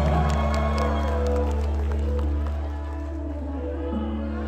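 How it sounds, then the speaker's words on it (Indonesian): Concert crowd at a show cheers and applauds during band introductions, a broad steady roar of voices and clapping layered over sustained low instrumental tones. "Tepuk tangan yang pasti ya."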